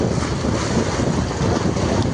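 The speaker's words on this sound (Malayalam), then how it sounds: "ബോട്ടിൻ്റെ ഇഞ്ചൻ കണ്ടോ?" A boat engine running steadily, a dense, even rumble mixed with wind buffeting the microphone and water noise, with no voices.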